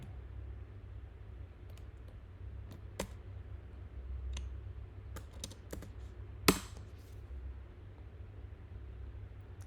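Computer keyboard keys tapped while running commands in a terminal, with sparse, irregular clicks and one sharper key strike over a steady low background hum.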